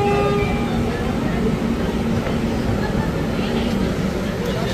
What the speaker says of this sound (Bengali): যে ট্রেন আমাদের ছেড়ে দিল,